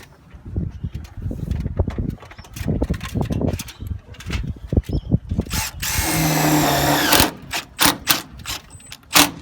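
A power drill drives a screw into roof fascia, first in short rapid bursts and then in one sustained, loud whirring run before tapering off into brief clicks and taps, heard up close with no talk.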